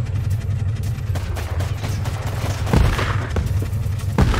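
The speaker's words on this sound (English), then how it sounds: "That was an awesome grenade. Took out the vehicle and like three of his units." Grenade blasts and gunfire in the strategy video game Warpips: a steady low rumble of battle with scattered shots, a loud blast near the middle and another burst near the end.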